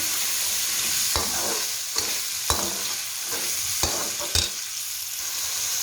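Potatoes and peas sizzle in a pan for pea pulao while a spoon stirs them, a steady close frying hiss broken by several sharp scraping knocks against the pan.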